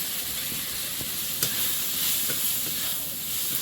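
Spices frying in hot oil for a Sundarban-style crab dish, a steady, fairly quiet sizzle with faint scrapes and taps of stirring, heard alone without speech.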